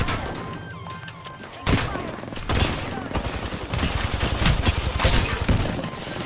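Rapid bursts of gunfire from a Wraith-and-Newcastle battle-royale shootout, loud and dense with sharp cracks and booms, running continuously over game noise while a player talks.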